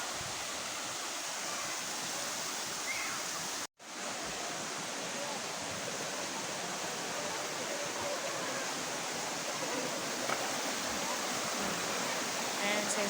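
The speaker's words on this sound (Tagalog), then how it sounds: "ang Bolinao Falls, ito po ay pinapasyalan po dito ng mga turista." Bolinao Falls, a tourist waterfall where people swim, pours in a steady, loud broadband roar throughout, broken by one brief dropout, with faint voices of bathers underneath.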